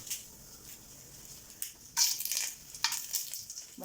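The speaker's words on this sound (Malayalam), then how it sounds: "കടുക് പൊട്ടുമ്പോൾ നമുക്ക് 2 വറ്റൽ മുളക് മുറിച്ചിട്ട് കൊടുക്കാം." Mustard seeds and cut dried red chillies frying in hot ghee, heard as a faint, steady hiss with a few sharper crackling bursts of popping seeds, no voices.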